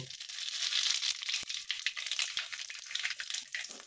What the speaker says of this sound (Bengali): এরপর আমি জোয়ান, রাঁধুনি আর কালো জিরের ফোড়নটা দিয়ে দেব।